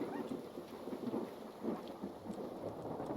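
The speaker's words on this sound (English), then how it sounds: "I think this is the first time I've heard thunderstorm in this game." Thunderstorm in the video game Hytale: steady rain hiss with low rumbling thunder rolling through, continuous and moderately loud, no talk.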